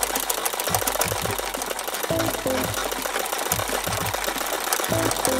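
A sewing machine runs continuously, stitching a thin embroidered seam on a small carpet, its motor whirring steadily with rhythmic pulsing bursts of needle strokes up close.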